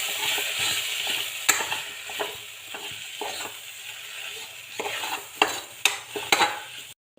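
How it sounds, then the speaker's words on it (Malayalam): Chilli powder, coriander powder and turmeric are stirred in a frying pan for beef curry, with a gentle sizzle under repeated scraping strokes of a spoon and a few sharper clinks against the pan. "ഇത് ഇളക്കി ഇതിൻ്റെ പച്ചമണം മാറുന്നത് വരെ ഇളക്കി കൊടുക്കാം."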